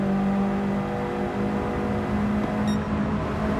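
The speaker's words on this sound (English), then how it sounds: "Downshifting to third gear, revving it up to 7000 RPM." A car engine in Gran Turismo 7, downshifted to third gear and revved to 7000 RPM, drones loud and steady throughout with a high-pitched whine, no talking over it.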